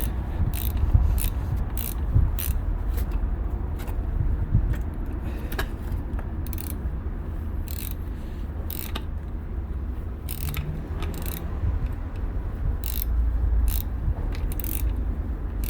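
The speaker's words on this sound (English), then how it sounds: "after I tighten it up all the way I could with that key" A wrench tightens the nut on a car shock absorber during a shock and spring replacement, making a long series of quick ratcheting clicks and metallic ticks at close range over low workshop rumble, with no one talking.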